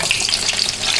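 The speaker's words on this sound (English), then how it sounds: "Now you want to go ahead and place your plantain. Of course, you want to hear that sizzle." Plantain pieces dropped into hot frying oil give a steady, bright sizzle with crackling bubbling, close and continuous throughout.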